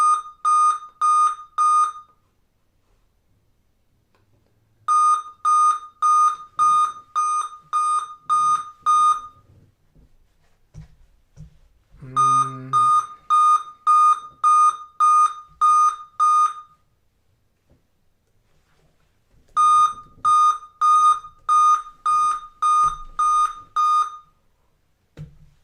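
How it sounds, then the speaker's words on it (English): Computer beeping while sitting in the BIOS screen: bursts of rapid, loud, evenly spaced electronic beeps repeat in groups with short silent gaps between, close and piercing, with faint handling noises underneath. "Stop that beeping, you're driving me nuts."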